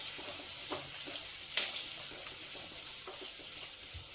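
Green chillies and onion frying in a pan for a chana dal and bottle gourd curry, a soft continuous hissing sizzle close by with a single sharper clink partway through.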